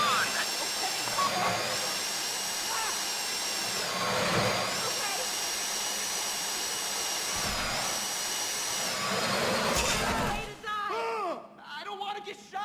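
A drill bores steadily into a bank vault during a Fleece bank heist in GTA 5 Online, a continuous high whining grind with hissing that holds for about ten seconds before cutting off.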